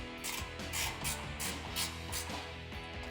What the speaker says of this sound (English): Grab your ratcheting wrench and tighten down the far nut.